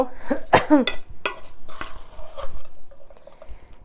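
Pork koi, raw pork marinated in lime juice, being stirred in a bowl, with a few scraping, clattering strokes up front and softer mixing after, close and dry.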